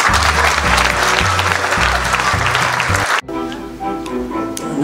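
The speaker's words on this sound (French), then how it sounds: "notre ami Joseph Arakel, et on peut l'applaudir très fort." Loud, dense clapping from a large audience at a Marseille event, accompanied by music, which cuts off abruptly partway through; the clapping continues more thinly over quieter, sustained music.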